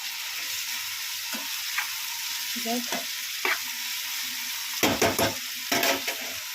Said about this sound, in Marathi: त्याला छान असं परतून घेऊया।